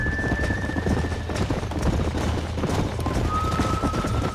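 Horses gallop and neigh in the video game Red Dead Redemption, a dense, continuous drumming of hooves with whinnies rising over it near the start and end.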